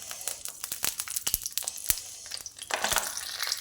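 Cumin seeds sizzle and crackle in hot oil after fenugreek has been added for tempering a vegetable dish, giving steady close frying hiss with sharp popping crackles and bursts throughout, no talk.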